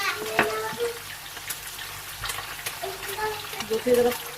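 Masala with tomatoes fries in a pan for fish karahi, a soft sizzle with intermittent stirring knocks and a few scrapes, fairly close.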